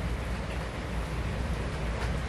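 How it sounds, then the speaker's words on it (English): Rain falls steadily during a storm outdoors, a dense, even hiss with a low rumble underneath that holds at the same level throughout, with no voices. "It's pretty stormy outside."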